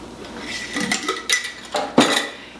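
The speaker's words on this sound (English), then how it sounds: "And I'm just going to give it just kind of a good stir." Jalapeno and dried cayenne peppers with garlic being stirred in a bowl, a handful of close, sharp utensil scrapes and clinks spaced out over a couple of seconds, with no voices.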